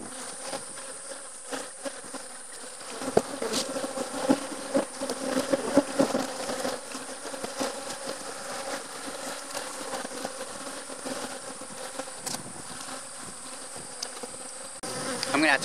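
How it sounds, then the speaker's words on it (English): Honey bees swarm and buzz around an open hive during a split, a dense close hum with individual insects whizzing past the ear, swelling louder in the middle and again at the end. "there's just way too many bees"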